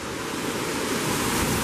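Water rushing through the Donut Falls cave in Big Cottonwood Canyon: a steady, loud, broadband roar of falling and flowing water, close by and continuous, with no voices.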